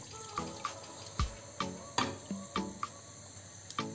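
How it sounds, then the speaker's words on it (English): Water is poured into a cooking pot of chicken gizzards, giving intermittent splashes and sharp clinks about every half second against a steady hiss. "At this point, I'm putting in a little bit of water."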